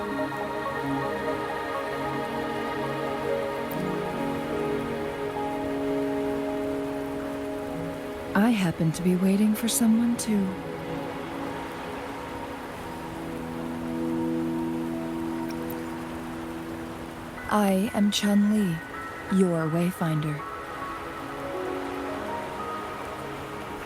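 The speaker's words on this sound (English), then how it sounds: "Are you trapped here by the rain?" Steady video game rain patters softly in the background beneath sustained tonal music, while a character speaks in two short bursts.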